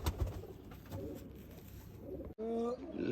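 Faint background noise, then a brief pigeon coo near the end, low and throaty, heard fairly close.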